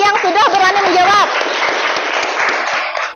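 Students in a biology classroom clap together, loud and close, with a teacher's voice and children's voices layered over the opening second before the applause carries on alone and fades at the end.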